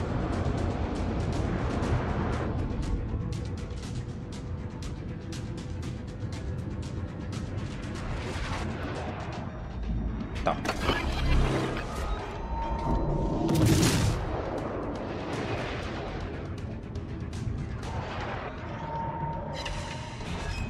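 Distant artillery and gunfire in a war video game, a run of muffled booms and crackling shots over a continuous low rumble, with a couple of louder, sharper bursts near the middle of the stretch.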